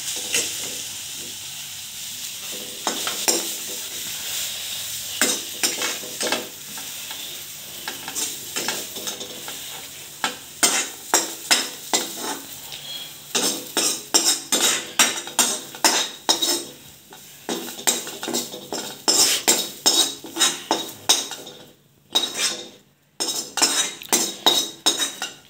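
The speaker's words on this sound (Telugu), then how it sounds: "ఇది నూనెలో అది తీసేసి టమాటో, జీలకర్ర, చింతపండు వేయించుకోవాలండి" Tomato, cumin and tamarind fry in oil for a drumstick-leaf chutney while a utensil stirs and scrapes the pan in busy, uneven bursts over a sizzling bed, with brief pauses near the end.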